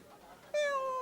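A contestant at a live Paithani game-show event in Kankavli imitates a cat's meow with their voice: a single loud, drawn-out meow that starts abruptly midway and slides downward, after a quieter stretch of background murmur.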